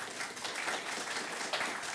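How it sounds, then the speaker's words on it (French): An audience at a Kubernetes tech talk breaks into applause, a faint, steady patter of many hands clapping at a distance with no voices over it. "Là, normalement, vous applaudissez parce que ça fait pas mal de temps que vous n'avez pas applaudi."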